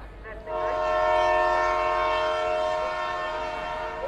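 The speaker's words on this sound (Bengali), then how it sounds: "ট্রেন ছেড়ে দিল।" A train pulling out of Baidyabati station: a long, loud horn blast starts abruptly and holds for several seconds, then slowly fades over a low rumble of rail noise.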